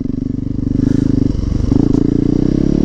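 A Yamaha motorcycle engine chugs at close range with a steady, rhythmic low pulse, briefly rising and settling as the bike sets off for a ride.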